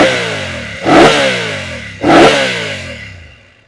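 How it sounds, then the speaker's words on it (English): A BMW F 900 GS motorcycle with its 895cc engine and standard Akrapovic exhaust revs twice in quick succession, each sharp, loud blip rising then settling back to a rumbling idle. "this motor now has a bit more character to its sound, thanks in part to this standard Akrapovic exhaust"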